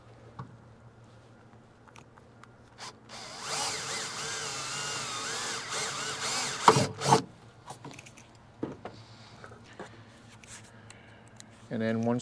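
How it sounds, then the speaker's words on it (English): A power drill whirs in one short burst of a few seconds close up, drilling a small pilot hole while fitting a vent visor on a Ford E Series van, followed by quieter handling clicks and knocks. "I'm going to drill a small pilot hole."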